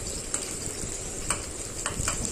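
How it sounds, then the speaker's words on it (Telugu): Onions frying lightly in oil in a pan, a soft, even sizzle with a few brief clinks or scrapes of stirring, quiet and continuous. "ఒక 4 మినిట్స్ అండి ఆయిల్లో ఇలాగా లైట్గా ఫ్రై చేసుకున్నాము"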